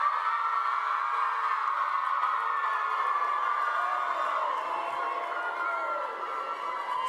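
A large crowd at a university graduation ceremony screaming and cheering in one sustained, loud roar of voices that holds steady throughout and eases slightly near the end.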